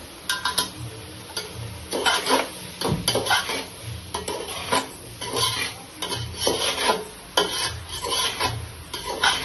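Biryani masala being stirred into a pot, with repeated scraping and clattering strokes of a spoon against the metal over a soft sizzle, close and rhythmic.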